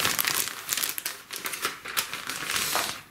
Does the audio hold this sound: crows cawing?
no